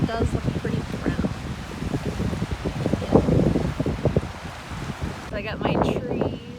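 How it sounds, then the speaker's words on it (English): Steady wind rushing outdoors by brownish water with rustling and buffeting against the microphone, under a voice talking throughout. "It's a little windy out here."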